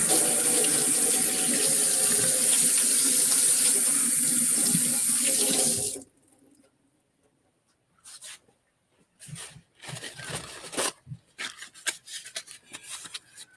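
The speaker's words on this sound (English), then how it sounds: "So now I'm going to wash my hands a little bit." Hands washed under a running kitchen tap while cooking pork with oregano: a steady loud gush of water for about six seconds, then the tap shuts off, followed by intermittent rubbing and wet handling sounds.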